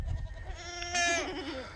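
A goat on a pasture gives one close, wavering bleat, a quavering nasal call that rises and trembles over soft outdoor background noise.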